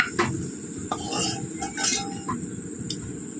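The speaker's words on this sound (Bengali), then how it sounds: "তাহলে একটা একটা করে তুলে নিই ভাজাগুলো" Fried chicken balls lifted one by one out of a frying pan, with several close metal clinks and scrapes of a utensil against the pan over a soft, steady sizzle of oil.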